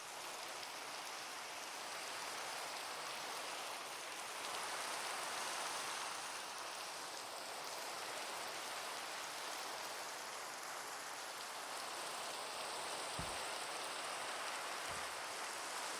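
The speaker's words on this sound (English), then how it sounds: "Here comes the rain, of course." Steady rain falls in Minecraft, a soft, even hiss of rainfall filling the whole stretch at low level, with a couple of faint low thuds near the end.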